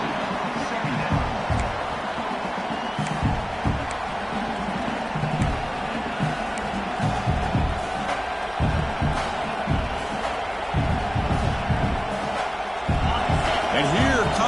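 Stadium crowd at a college football game between the Vols and Clemson, a loud, continuous roar with bursts of cheering and shouting, heard under an announcer's commentary.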